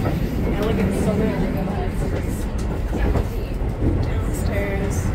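Steady rumble and rattle inside a moving train in Japan, a continuous loud roll with faint clicks and squeaks, heard from the upper deck of the carriage while people talk over it.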